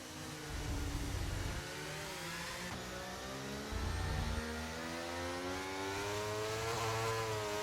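A Formula 1 car in F1 23 at the Canada round pulls away under gentle throttle, its engine note climbing in steady rising pitch, fairly quiet with low rumbling pulses underneath.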